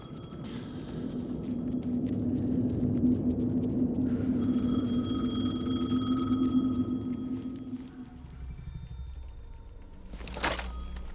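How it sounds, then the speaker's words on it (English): A telephone rings in the video game Alan Wake 2, a steady electronic ringing tone layered over a low droning ambient rumble, fairly quiet, before the scene drops to a softer hum with a brief clatter near the end. "The phone again."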